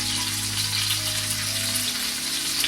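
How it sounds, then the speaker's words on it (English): Steady, dense sizzling of chicken frying in a hot pan, loud and continuous with no talking. "Nice sizzle, I know you can hear that."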